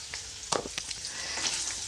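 Paneer cubes coated with chili powder, turmeric and salt fry in a pan, giving a steady soft sizzle broken by a few sharper crackles and pops near the middle.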